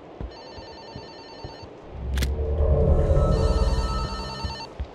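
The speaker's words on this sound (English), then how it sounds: "It's a phone ringing." A telephone bell rings in Fobia - St. Dinfna Hotel, a spooky horror game, with repeated electronic trills starting and stopping over a low rumbling ambience that swells midway.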